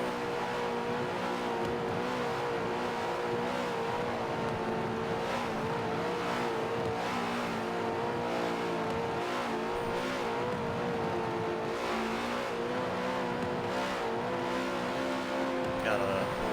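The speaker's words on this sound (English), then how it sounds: "Now they do their honor lap as they double up." Several NASCAR Truck Series trucks rumble around Homestead Speedway on a slow honor lap, a steady layered engine drone with rising and falling revs. A commentator talks over it throughout.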